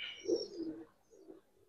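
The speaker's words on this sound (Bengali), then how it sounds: "অ্যালুমিনিয়াম একটা কবুতর দিলাম" Aluminium-coloured pigeon giving a soft, low cooing call up close, a few rolling coos over under two seconds, followed by a quieter second coo.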